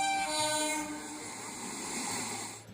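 Passenger train travelling from Udupi railway station toward Thivim in Goa, a sustained horn blast at the start fading into a steady rumble of rolling wagons, close and continuous.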